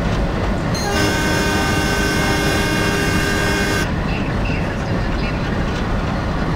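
A diesel train idles at Dindigul Junction in the Train Simulator Classic game, with a steady engine rumble throughout and a long sustained horn tone for about three seconds partway in.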